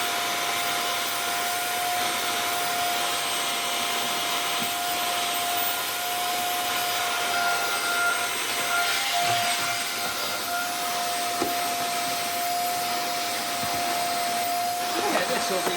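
A Klarpul KL-001 vacuum cleaner runs continuously with a steady, loud whining motor drone and airy rush, the pitch holding constant throughout with faint rubbing noises underneath and no talking.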